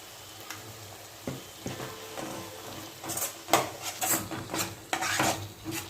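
A spoon stirs softened tomato pieces in a pan for ridge gourd curry, giving irregular scraping and clinking strokes with faint sizzling, busier in the second half.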